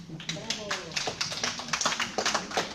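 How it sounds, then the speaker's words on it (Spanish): Scattered claps in a Spanish-speaking classroom or talk on pension funds, acknowledging a participant after a quiz answer; a handful of close, uneven hand claps with voices murmuring underneath. "Un aplauso a la compañera."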